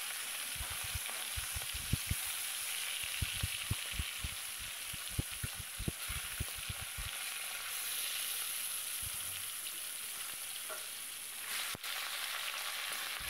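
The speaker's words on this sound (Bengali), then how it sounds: "এক এক করে মাছগুলো তেলের ওপরে ছেড়ে দিচ্ছি।" Khoira hilsa fish fry in oil, a continuous crackling sizzle with bursts of sharp pops and spatters as the pieces go into the pan one by one, then settling into an even hiss.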